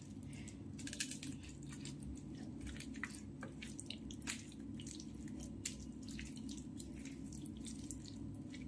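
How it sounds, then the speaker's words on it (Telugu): Wet squishing and soft squelching sounds repeat irregularly up close as cooked eggplant is kneaded and mashed by hand, with faint drips. "మెత్తగా పిసికేసేయాలి వీటిని"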